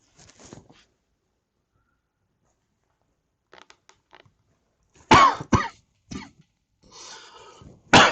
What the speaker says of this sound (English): Sorry, dry cough a little bit.